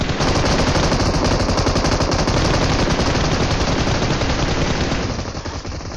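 Loud, dense automatic gunfire in PUBG Mobile, continuous rapid bursts filling the whole stretch and easing slightly at the end.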